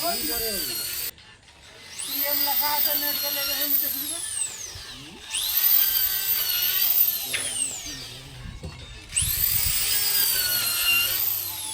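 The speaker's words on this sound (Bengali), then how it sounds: "পালিশ চলছে আর কুঠির কাজ চলছে" Power tools whine through polishing and carving work in a new workshop, three bursts of high, rising motor screech separated by short pauses, with a person talking in the background.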